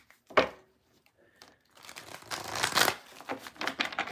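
A deck of cards being shuffled during a card reading: one sharp riffle, a pause, then a longer papery run of crinkling, fluttering card sounds, close and fairly quiet.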